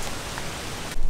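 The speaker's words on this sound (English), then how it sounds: "Heavy rains." Heavy rain pours down during a severe storm with tornado warnings, a dense steady hiss of rainfall filling the whole moment, loud and close, ending in a sudden low rumble.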